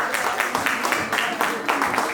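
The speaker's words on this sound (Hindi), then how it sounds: "सोमेश जी का तालियों से स्वागत किया जाए दोस्तों।" Audience applause at a Jain Samaj community event in Newcastle welcoming a participant to the stage: steady, dense clapping from a crowd, fairly loud and continuous throughout.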